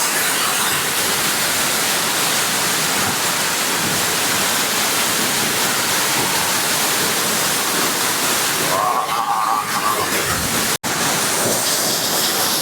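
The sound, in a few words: Achankallu waterfall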